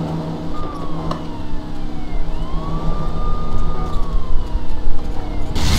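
A police car siren wails in long rising and falling sweeps over steady road and engine noise in a video game set in New York City.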